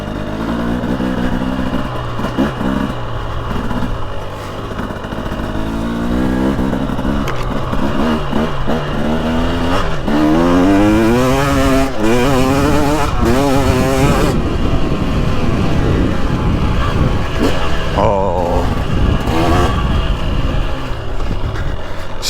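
A Husqvarna TX300 two-stroke dirt bike engine rides slowly through soft woods, running continuously at close range with rising and falling partial-throttle revs and brief surges over about twenty seconds.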